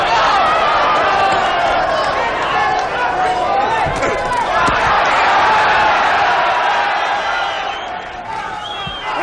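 A boxing crowd at a world middleweight title fight cheers for Vito Antuofermo, a loud sustained roar of shouting and whistles under close commentary, fading a little near the end.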